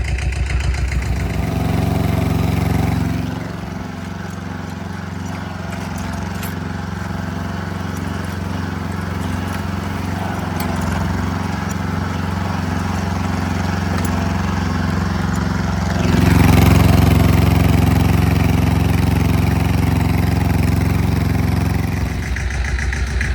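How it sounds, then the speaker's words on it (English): A tractor engine runs steadily at close range while chopping corn stalks, its low droning hum shifting in pitch and growing louder partway through as it works. "I might try to chop all this up, try to loosen it all up. We'll see what the tractor can do."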